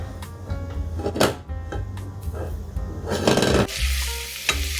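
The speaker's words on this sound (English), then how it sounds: "I'm sauteing the onions in olive oil." Onions sautéing in a little olive oil in a reused pasta pot on a home stove, with a steady sizzle under brief stirring scrapes and a few clunks of utensils or cupboards.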